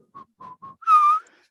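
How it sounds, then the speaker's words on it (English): Someone whistles while painting a watercolour: three short clear notes, then a longer, louder sustained note that trails off, close and alone. "whistle while you work"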